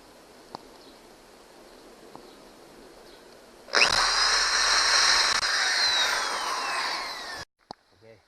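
A power drill drives screws into a teak boat swim ladder: one loud, close, steady whirring run of about four seconds that stops abruptly, after quiet handling noises.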